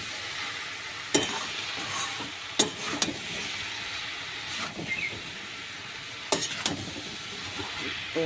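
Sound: stirring cabbage curry in a pan

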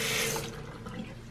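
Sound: water running from kitchen tap

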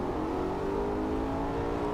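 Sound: Maserati GranTurismo engine revving in a VR driving game

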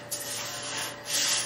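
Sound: paintbrush spreading acid on rusty VW Beetle gas tank

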